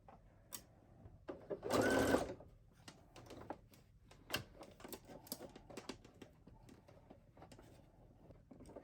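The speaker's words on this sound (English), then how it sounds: "I'm just going to set that on there first and get my stitches started" Sewing machine stitching fabric to gather it, a short loud burst of rapid stitching followed by scattered clicks and taps of handling nearby, with quiet background.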